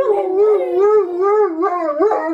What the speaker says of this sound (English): We have two dogs, a half Rottweiler, half Bernese Mountain named Bentley.